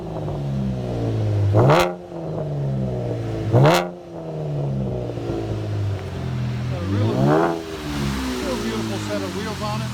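A 2012 Chevy Camaro V6 with dual exhaust and muffler delete revs sharply twice, then a third longer rev, with a deep droning idle in between and someone talking over it.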